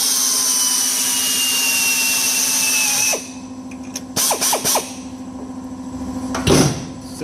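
A self-tapping screw driven into a dented car panel for a slide-hammer dent puller: a steady high drill whine that stops abruptly, followed by a few sharp metallic clicks and knocks, close and loud.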